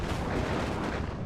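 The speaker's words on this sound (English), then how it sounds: "It's about to explode." A dense, roaring explosion in Life is Strange Remastered, a continuous low rumbling blast that fills the whole short moment at steady loudness with no voices.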